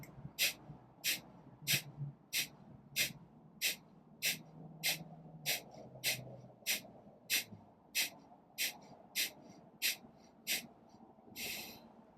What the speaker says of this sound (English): incorporate breath of fire. So take a big breath in. Draw your belly in rapidly as you force it.